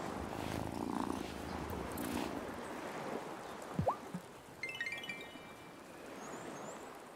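Cat purring in the video game Wylde Flowers, a soft, low rhythmic rumble heard up close, with faint ambient game sounds and a few small chirps and blips over it.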